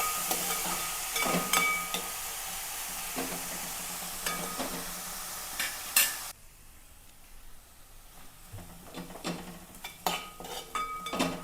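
Onions, green chilli and ginger sautéing in a pan for a Kerala-style egg stew: a steady sizzle with intermittent clinks and scrapes of a spoon stirring, the frying noise dropping softer partway through.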